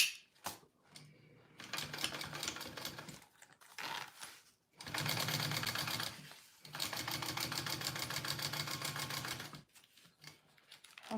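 A sewing machine stitches up the pocket of a bowler bag in several loud, rapid bursts separated by short pauses, the longest runs lasting a few seconds each, close up and with no talking.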